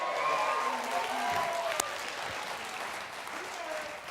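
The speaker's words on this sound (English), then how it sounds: "give a big round of applause, please, for Julian and all our other contestants who took part in tonight's show" Studio audience applause for contestants on a BBC National Lottery Jetset game show, a sustained wash of clapping from a crowd while a host's voice carries over it.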